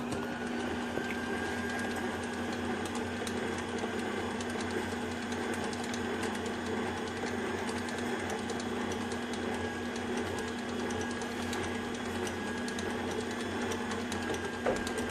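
An electric mixer whirs steadily through lemon pound cake batter, a constant mechanical hum with a faint rattle, fairly quiet and running without a break.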